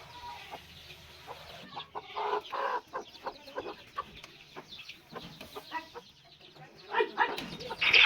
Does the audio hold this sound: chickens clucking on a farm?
yes